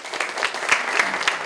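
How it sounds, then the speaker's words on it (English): An audience at a KAIST conference event applauds steadily with dense, even clapping throughout, fairly close and without speech over it. "So please also give them a round of applause."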